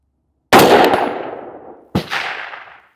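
A 16-inch Daniel Defense V11 rifle fires Atomic Ammo 77 grain rounds: two loud, sharp shots about a second and a half apart, each trailing off in a long echoing decay, with no voices.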